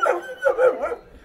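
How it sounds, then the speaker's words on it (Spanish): A small female dog yips and barks in a few quick, close, fairly loud bursts on a farm in Leticia, Amazonas. "Muy linda la perrita"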